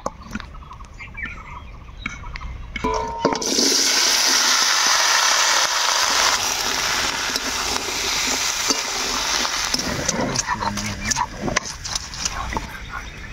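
Mustard oil in a wok sizzles loudly in a steady, hissing fry that swells suddenly and then carries on for several seconds, with some stirring noise.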